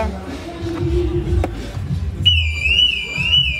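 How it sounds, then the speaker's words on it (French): A Volkswagen Golf 8 car alarm starts partway through, a loud warbling tone that wavers up and down continuously over low rumbling background noise. "il y a une alarme qui s'est déclenchée"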